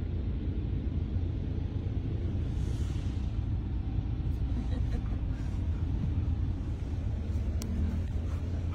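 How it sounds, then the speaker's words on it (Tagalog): Steady low rumble of dense road traffic with many vehicles, heard from inside a moving vehicle, with a faint passing whoosh and no break in the continuous engine and road noise. "Daming sasakyan? Daming sasakyan."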